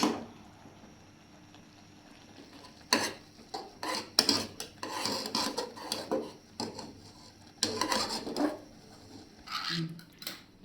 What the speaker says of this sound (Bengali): সুন্দর করে নাড়াচাড়া দাও মিশাও